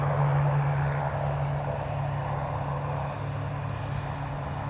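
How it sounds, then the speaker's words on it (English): EasyJet airliner taxiing at Newcastle International Airport, a steady distant jet engine whine and low rumble holding evenly throughout with no talk. "we've got the EasyJet just taxiing toward the Jet2 A321"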